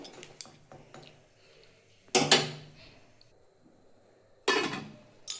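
A pot of banana stem boiling with salt and turmeric gets covered, giving three sharp metallic clanks of the lid against the pot, spaced a couple of seconds apart, with quieter clinks between.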